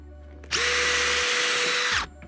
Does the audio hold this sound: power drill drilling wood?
yes